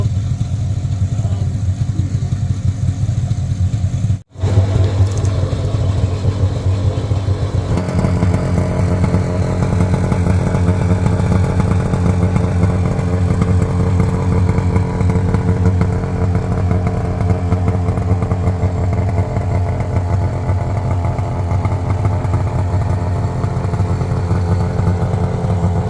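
A 1993 Arctic Cat 440 Jag snowmobile engine idles steadily after a cold start, a loud, continuous two-stroke buzz with a rasping, chainsaw-like edge that drops out for a moment and then picks back up.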